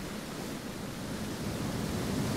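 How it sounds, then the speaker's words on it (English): A big waterfall in the video game Shelter gives a steady, dense roar of rushing water, even and loud throughout with no breaks and no voices. "This is some kind of big waterfall thing."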